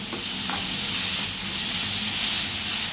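Steady sizzling and crackling of vegetables sautéing in a hot pan, continuous and close, with a faint scrape of stirring early on.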